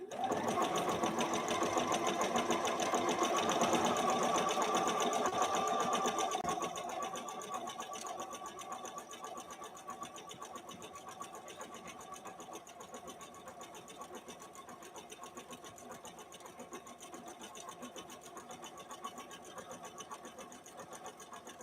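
A Bernina Activa 130 Swiss sewing machine runs a stitch, a loud steady mechanical whir for the first several seconds that then drops to a quieter, even hum for the rest.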